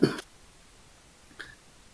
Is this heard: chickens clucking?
no